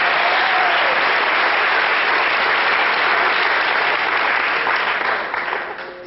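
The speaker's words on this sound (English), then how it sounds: "By round of applause." Loud, dense applause from a comedy show audience fills the room, sustained clapping that holds steady for several seconds before tapering off at the end.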